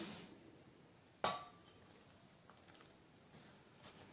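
A single sharp clink of a spoon against a bowl while melted butter is stirred into crushed biscuits for a chocolate Oreo cheesecake base, followed by faint, quiet scraping in a hushed kitchen.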